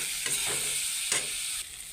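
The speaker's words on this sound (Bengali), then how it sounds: "এবার কচু এখানে ভাজবো।" Taro pieces frying in a pan while being stirred, a loud continuous sizzle broken by scraping strokes of the utensil at intervals, close up with no talking.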